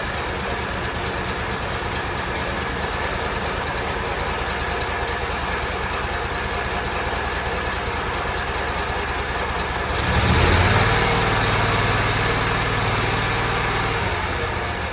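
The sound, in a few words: Kohler CH-745 engine idling on Exmark Lazer Z mower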